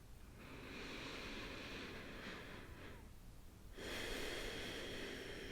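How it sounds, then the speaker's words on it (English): Slow, deep breaths during a guided meditation: a long airy inhale, a pause, then a fuller exhale, close and steady with no talking. "Breathing into the center of your chest."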